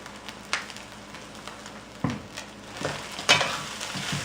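A spoon stirs rice coated in soy sauce in a hot frying pan for Thai fried rice, light sizzling beneath several sharp scraping knocks and clatters spaced irregularly.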